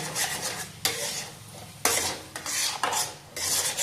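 A spatula scrapes and stirs an almond mixture roasting in an iron kadai, rhythmic rasping strokes about once a second against the metal, close and clear with no voices.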